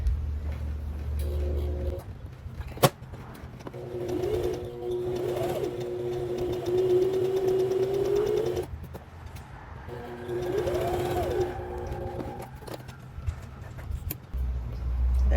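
Sewing machine stitching a second line on pajama fabric, running in two long steady bursts with a whirring motor hum and rapid needle rattle, separated by pauses with small clicks and handling noises.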